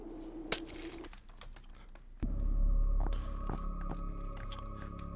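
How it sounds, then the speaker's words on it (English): Glass shatters in the cinematic platformer video game 722: A Nameless Inheritance, a bright crash near the start followed by a heavier impact and a sustained ringing, layered game sound. "That shattering glass is the sound of my sanity breaking."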